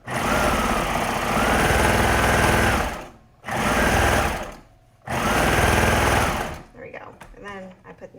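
A sewing machine stitches a kids' hoodie in three close, loud bursts of rapid whirring separated by short pauses, followed by softer handling clicks. A voice may be faintly present under the motor.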